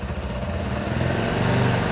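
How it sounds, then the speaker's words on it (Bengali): An old motorcycle engine with overheating and engine-noise problems runs at raised RPM, a loud, buzzing, continuous drone heard up close with a slight rise in pitch toward the end. "আমি আরপিএমটা বাড়িয়ে দিচ্ছি।"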